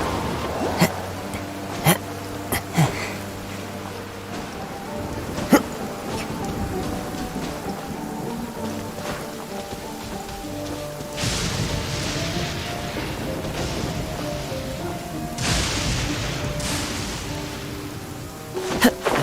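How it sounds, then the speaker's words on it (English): Rain pours steadily in the video game Genshin Impact, a continuous hiss broken by sharp drips. Rumbling bursts of thunder swell in the second half over a faint background of game sounds. "Taking a stroll in the middle of a downpour certainly rouses the spirit."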